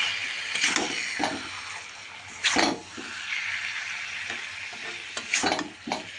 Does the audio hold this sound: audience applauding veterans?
no